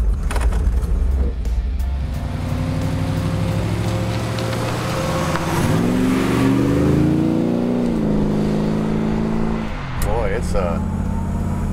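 A custom car's engine starts and runs steadily, its revs rising and falling through a revving stretch, with people talking over the rumble.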